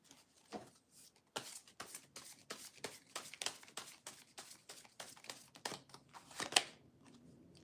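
Tarot cards are shuffled quietly in a steady run of small, crisp taps and flicks, close but faint, with no one speaking.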